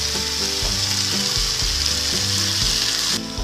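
Raw jackfruit and spices sautéing in oil for a vegetarian curry, a steady loud sizzle and fry with recurring low scraping stir strokes, close and alone without voices.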